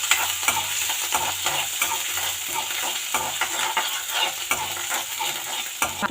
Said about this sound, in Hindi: आधे चम्मच जीरा डाल रही हूँ।